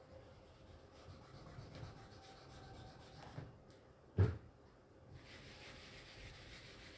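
Chalk or marker being rubbed off a classroom board during a human resource management lesson, a steady soft scrubbing that runs throughout, with one sharp knock partway through and no talking.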